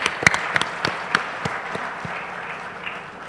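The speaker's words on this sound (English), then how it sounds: "round of applause for Voxy" Audience applause after a startup pitch on stage at a tech conference, scattered sharp claps that thin out and fade over a few seconds.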